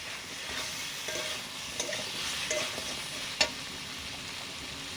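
Potato and kakrol pieces fry in oil with garam masala, giving a continuous hiss under scattered stirring scrapes and one sharper clack of a utensil against the pan.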